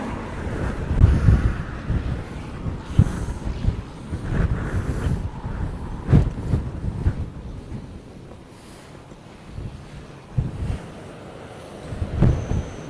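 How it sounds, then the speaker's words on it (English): Strong, gusty wind on a stormy beach at Walcott batters the microphone with heavy, continuous roaring buffets and repeated louder gusts, with no talking. "I'm really struggling to hold myself up against this wind"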